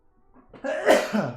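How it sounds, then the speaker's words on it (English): A person sneezes once, close up, with a short inhaled build-up and then a sudden loud burst, followed by a brief trailing breath. "That wasn't a very good sneeze. Not very robust."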